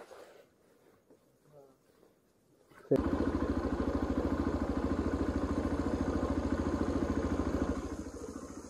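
A motorcycle engine starts up after a few seconds of quiet and settles into a close, loud, steady throbbing idle with a rapid regular pulse, briefly easing slightly near the end; faint talk precedes the start.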